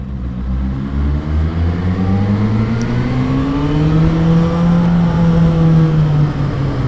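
A Suzuki GSR600 motorcycle with its standard exhaust runs close by with a deep, throaty exhaust note, its pitch rising and falling as it revs through gears.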